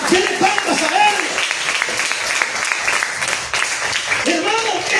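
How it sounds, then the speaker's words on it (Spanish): A church congregation claps together for the Lord in rhythmic, steady applause, loud and close, mixed with voices and singing that continue over the clapping throughout. "Dele palmas al Señor, hermano, dele palmas a Él."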